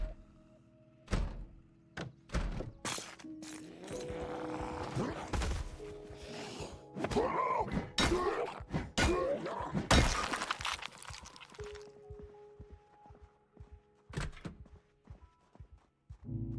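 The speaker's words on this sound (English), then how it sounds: "Broken glass." In the Project Zomboid game, glass shatters in a series of sharp crashes and thumps, some clustered closely together and others spaced apart, mixed with clattering impacts and a few faint tonal cues.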